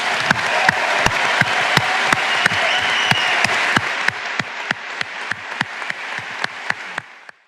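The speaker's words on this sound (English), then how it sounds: "a huge round of applause to Paddy Cosgrave and the team of the Web Summit" A large audience at Web Summit applauds in a broad, sustained roar of clapping, punctuated by sharp rhythmic claps that carry on steadily before cutting off at the end.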